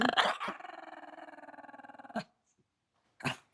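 A dog growls in a sustained, rumbling snarl for about two seconds, close and fairly loud, followed by silence and a short sharp burst at the end.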